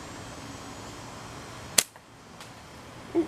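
A slingshot fires a 5mm steel ball bearing once, a single sharp snap followed by quiet, then a faint dull knock of the impact downrange.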